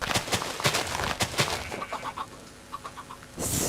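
Chickens cluck in a Minecraft game, a series of short repeated clucks at moderate level, several in a row with brief pauses between, alongside other clicky game sounds.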